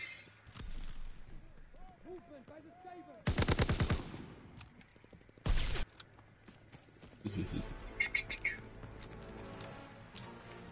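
Gunfire in a World War II video game, with a fast automatic burst and a second short burst among game effects and background noise, while a player talks over it.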